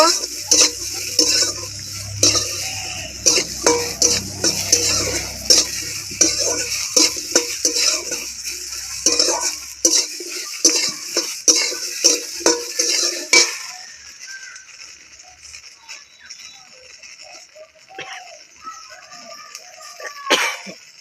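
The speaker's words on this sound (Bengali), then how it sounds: "ভেন্ডি খানিকটা নেড়ে চেড়ে নেব" Sliced okra being stirred in a pan with oil, giving repeated scraping and clinking strokes of a spatula against the pan over a soft sizzle; the stirring thins out in the second half, leaving quieter, sparser scrapes.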